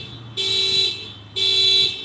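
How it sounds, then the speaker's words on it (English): A car horn blares in two long, loud honks of roughly half a second each, separated by a short pause, against faint background noise. "it's Michael Myers honking the horn"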